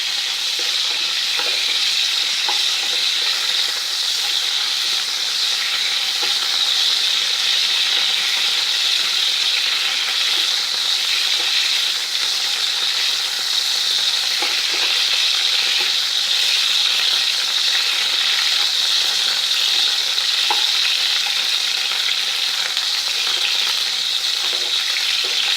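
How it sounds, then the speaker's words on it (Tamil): Eggplant (brinjal) pieces fry in a pan over high flame, a steady loud sizzle running the whole time with scattered stirring scrapes and pops, no voices. "இது கொஞ்சம் ப்ரௌனிஷ் ஆகிற வரைக்கும் வறுத்துடலாம்."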